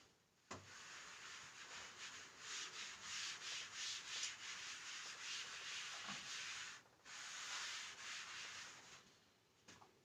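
An eraser rubs out writing on paper in long, close back-and-forth scrubbing strokes, with a couple of short pauses between bursts.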